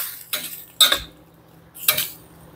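Metal utensil scraping and clanking against a pan while stirring beef and broccoli, three distinct bursts of stirring with brief pauses between, close and fairly loud.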